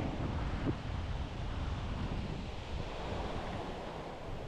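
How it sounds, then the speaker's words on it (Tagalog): Strong wind buffets the microphone at the sea shore in Calatagan, Batangas, a continuous loud roar mixed with surf, without any talking. "Lakas pa ng hangin."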